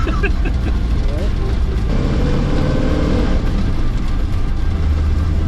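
An old Chevy truck, a family vehicle for 60 years, drives in fourth gear with a loud, steady engine drone and road rumble inside a small cab, while people talk over it.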